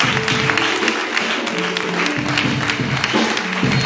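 A church congregation applauds in acclamation of Jesus, a dense, sustained round of clapping with a sustained tonal drone underneath, steady and fairly loud throughout.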